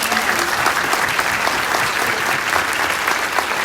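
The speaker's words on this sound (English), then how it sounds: "Let's give everyone a round of applause." Sustained, dense audience applause fills a room in honour of cancer survivors standing among the crowd, loud and even throughout without a break.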